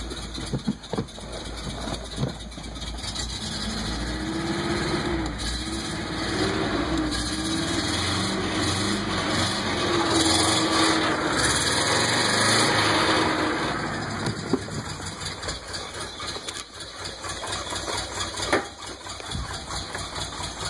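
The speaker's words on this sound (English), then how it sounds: "Once she warms up, she idles great." Steady idle of a carbureted 1985 Subaru GL 4WD wagon engine, an even, continuous running hum close by with slight rises in revs midway and no voices.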